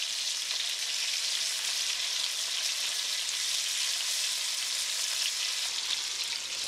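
Chicken tenderloins with a chili crust sizzling in a hot pan after being turned over, a dense, even, close hiss of frying that stays steady throughout with no voices.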